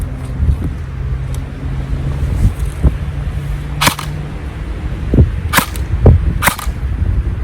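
Airsoft AK rifle firing 0.2 gram BBs during an FPS test, several sharp single shots popping at irregular intervals, close and loud over a steady low background hum.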